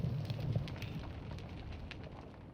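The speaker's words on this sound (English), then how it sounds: "A smoker being fired." A lit Minecraft smoker: soft fire crackling and faint ticking pops over a low rumbling bed that is a little louder at first, then settles into a steady hiss.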